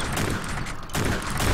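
A shotgun blasts in the sci-fi shooter Space Beast Terror Fright, with two heavy, booming reports in quick succession, close and loud, with no talk during the shots.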